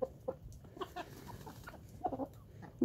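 A hen gives short, soft clucks in scattered bursts against a quiet background, with no voices.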